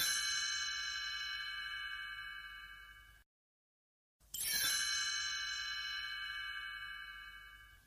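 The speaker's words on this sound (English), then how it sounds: "You will know it is time to turn the page when you hear the chimes ring like this." Two bright chime strikes, each ringing out and slowly fading, separated by a short silence; clear and alone.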